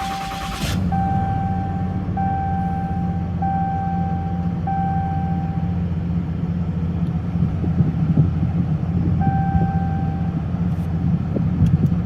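Diesel engine of a Ram 3500 pickup with a Cummins 6.7 HO after fuel filter replacement, starting with a quick burst and settling into a steady low idle rumble, accompanied by repeated dash warning chimes.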